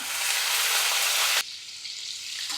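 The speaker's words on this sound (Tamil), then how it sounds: "இப்போ இதில் ஒரு வெங்காயம் கட் பண்ணி எடுத்து வச்சுருக்கேன், அதை இதில் சேர்த்துடலாம்." Onion dropped into hot oil with mustard seeds, cumin and asafoetida for a potato pepper fry, a loud steady sizzle that cuts abruptly to a quieter, softer crackle.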